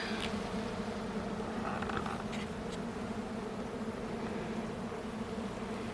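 Honeybees buzzing steadily and densely during a mid-July hive inspection, a continuous close swarm drone filling the whole stretch with no talk.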